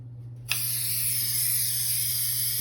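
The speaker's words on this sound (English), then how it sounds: "just going to spray right in" Multi-purpose spray adhesive from an aerosol can bursts into a loud, steady hiss that runs on without a break, with a low hum beneath and no talking.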